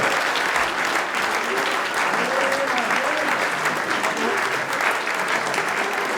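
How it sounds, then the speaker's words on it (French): Dense, steady applause from an audience fills the whole stretch, loud and unbroken, honouring the first-prize winner of a 2021 oyster-opening contest in Charente-Maritime. "Vous pouvez l'applaudir bien fort."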